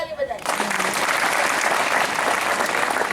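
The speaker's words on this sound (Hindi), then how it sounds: "जोरदार ताली बजाई" A loud crowd bursts into strong applause at a Brahma Kumaris groundbreaking ceremony in Jalgaon, cutting in after a brief voice and continuing as a thick, sustained wash of clapping.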